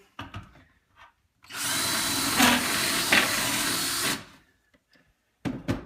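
A power drill whines steadily for about three seconds, drilling under a kitchen cabinet for LED strip installation, loud and close, with brief clicks and handling noises before and after.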